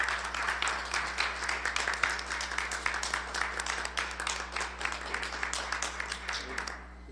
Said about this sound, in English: Please come up and take your applause